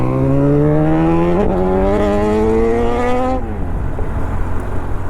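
A superbike engine roars close by and pulls past with a steady climbing pitch that drops away abruptly partway through, leaving a loud rumbling background.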